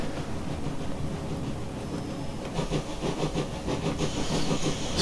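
A 9400 class pannier tank steam locomotive in Train Simulator Classic: low rumbling running noise with a steady hiss, building into rhythmic chuffing beats and brighter steam bursts over the second half, no talking.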